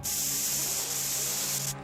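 An aerosol can sprays in a cartoon, giving a loud, steady, close hiss that lasts nearly two seconds and then cuts off.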